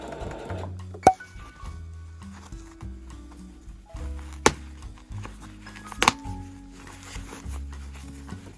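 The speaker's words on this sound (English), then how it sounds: "I folded the raw edges of the hem up by 1/4 inch and stitched it all the way around on both legs." A sewing machine runs steadily, stitching a folded quarter-inch hem around the legs of elastic-waist shorts. Its low motor hum and rapid needle chatter shift in pitch as the speed changes, with a few sharp clicks along the way.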